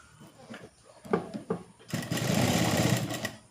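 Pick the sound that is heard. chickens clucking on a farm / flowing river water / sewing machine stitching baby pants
sewing machine stitching baby pants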